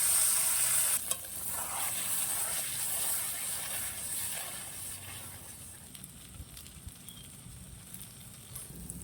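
Boiled potatoes and peas stirred into sizzling ghugni masala in a pan: steady loud frying hiss with scraping spoon strokes that gradually quiets, heard close and alone.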